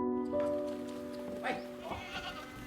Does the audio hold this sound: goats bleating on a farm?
yes